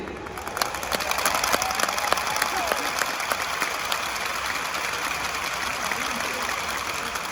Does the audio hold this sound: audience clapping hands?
yes